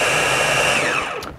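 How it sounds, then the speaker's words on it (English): A kitchen blender blitzes a red lentil flatbread mixture with a loud, steady motor whir that holds for about a second before winding down and cutting off. "Put it into the blender, get the lid on the top, and blitz"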